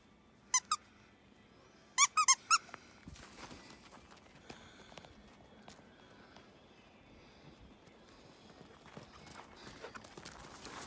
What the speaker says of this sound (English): You're going to have that squeaky toy out of that in minutes.